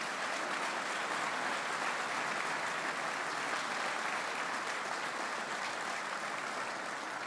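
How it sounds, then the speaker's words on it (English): Dense, sustained applause from an audience honoring award winners at a mayor's State of the City address, an even wash of many hands clapping with no break. "Again, let's give these winners a round of applause."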